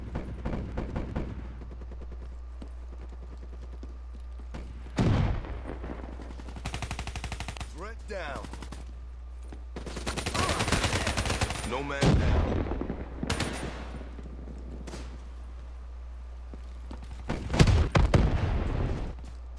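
Haymaker 12 shotgun blasts in a Black Ops 3 team deathmatch on PS3, loud repeated bursts of fire in clusters with gaps between, mixed with other gunfire and a low steady hum.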